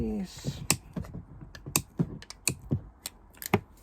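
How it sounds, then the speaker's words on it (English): Bolt cutters snip along a line in a recycled plastic sheet, making a series of sharp, close clicks and crunches at an uneven pace, with a short voice at the start. "these are bolt cutters, so I'm just going to cut along the white line there with these"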